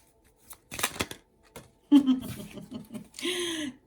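Cards are riffled and snapped in quick bursts, with a voice briefly chuckling and speaking between them, close up.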